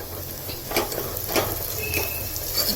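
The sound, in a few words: chili, onion and turmeric frying in a pan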